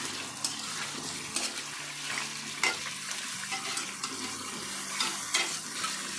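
Chicken coated in ginger garlic paste fries in a kadhai with a steady, close sizzle. Repeated scraping and stirring clinks sound over the constant crackle, with no voices.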